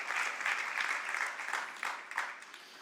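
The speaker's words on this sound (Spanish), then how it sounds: "afírmelo con el aplauso" A Spanish-speaking church congregation at a worship service applauds in a brief, steady burst of dense clapping that holds at an even level throughout.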